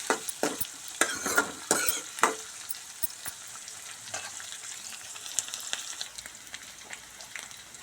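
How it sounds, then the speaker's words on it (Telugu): Green chillies and onion sizzle and crackle in a pan as a utensil stirs them, with sharp scraping clicks early on and then a steady frying hiss, close up and with no voices. "వేసుకొని మంచిగా ఫ్రై చేసుకోవాలి పచ్చిమిర్చి ఉల్లిపాయ"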